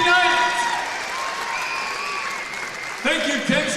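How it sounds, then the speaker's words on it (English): Crowd applause at a girls' basketball game in a gym: steady, broad clapping throughout with voices calling over it, then talk rising near the end. "A big round of applause for Kenzie Knight."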